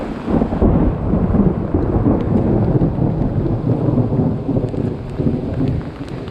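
Thunder rumbles loud and continuous through a heavy rainstorm, with steady close rain hiss and deep booming rolls across the whole stretch, no voices.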